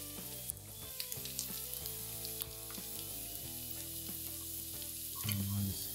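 Potatoes pan-frying in butter for German-style fried potatoes give a steady sizzle and crackle with squeaky notes, close and continuous, with occasional clinks of stirring.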